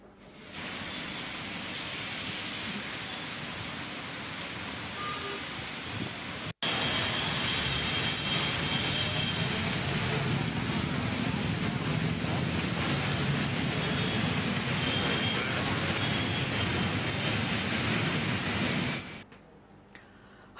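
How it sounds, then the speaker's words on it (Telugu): Heavy rain in Hyderabad roars as a loud, continuous wash of noise for nearly twenty seconds, broken by one abrupt cut early on, then ending suddenly. "పలుచోట్ల భారీగా వర్షం కురుస్తుంది"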